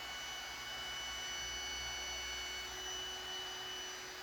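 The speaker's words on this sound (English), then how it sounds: "I had to get a little creative when routing the round over into the tops of the legs" A router cutting a 1/4 inch round over into the tops of wooden shelf legs gives a continuous, even motor whine with a faint hum underneath, steady throughout with no voices.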